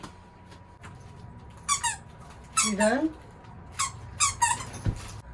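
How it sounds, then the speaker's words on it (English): A dog in the background gives a series of high, wavering squeaks in short bursts, with a person speaking briefly over the sound. "I can't do anything about the annoying squeaky noise in the background because I am dog sitting him"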